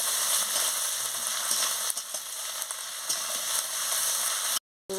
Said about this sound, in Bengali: আদা বাটা আর রসুন বাটাটাই দিয়ে দিচ্ছি, দিয়ে মশলাটা ভালো করে কষিয়ে নিচ্ছি।